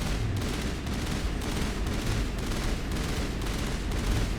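Gunfire in Mass Effect, a dense, continuous rumble of shots and blasts at moderate distance, fairly uniform and unbroken, with no voices on top.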